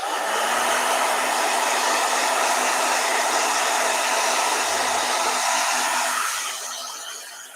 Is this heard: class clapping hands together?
no